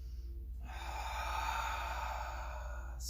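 Long cleansing breath exhaled during an exercise session, a single steady airy exhale lasting about two and a half seconds, close and moderately loud with no talking.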